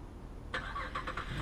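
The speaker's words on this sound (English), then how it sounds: "This vehicle is equipped with a remote start." A Chevrolet Camaro, a 2015 LT convertible, starts by remote, with a faint low engine rumble and a few soft clicks and chirps as it fires up from a distance.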